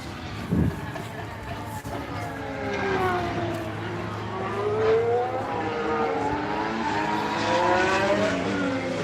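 A McLaren race car passes on a test day, its engine whine climbing and falling as it sweeps by at moderate distance, with a sharp knock near the start and a steady background hum.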